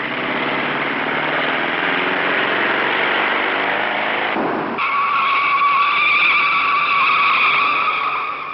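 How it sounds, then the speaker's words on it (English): A 1956 race car skids through a long slide at the Indianapolis 500. A loud, sustained screech of tires and engine shifts to a sharper, ringing squeal partway through, with no voices, on an old, narrow-sounding recording. "His car was battered by the retaining wall in a 300-foot slide"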